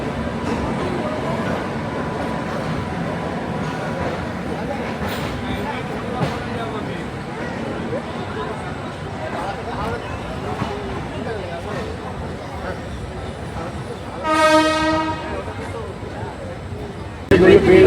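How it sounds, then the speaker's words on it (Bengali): Steady rumbling of a train pulling away from platform 9 at Sealdah station, with crowd chatter underneath and a brief horn toward the end. "আর ছেড়ে দিল আমাদের ট্রেন শিয়ালদা ন নম্বর প্ল্যাটফর্ম থেকে"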